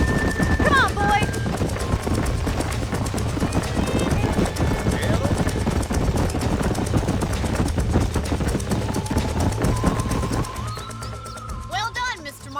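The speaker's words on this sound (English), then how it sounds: "These are fine horses" Horses galloping in the Red Dead Redemption video game, a steady rapid drumming of hooves running throughout under game music, with voices speaking over it.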